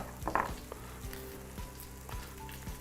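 Rice toasting in a pan gives a soft, steady sizzle and crackle, with a few louder pops and stirring scrapes near the start. It is quiet and close, with no talk.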